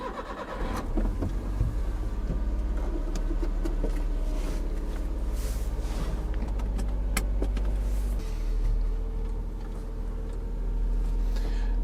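A 2004 Suzuki Carry 4WD kei truck engine starting and settling into a steady idle, heard close from inside the cab with a continuous low rumble and a slight shift in tone near the end.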